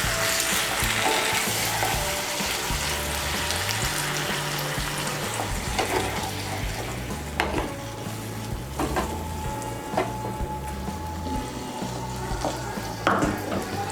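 Water poured into spiced flat beans sizzling in a hot pan, producing a loud, dense hiss and bubbling that settles into a steady sizzle, close up, with a few utensil clinks toward the end.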